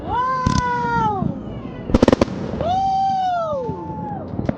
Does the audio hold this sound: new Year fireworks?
yes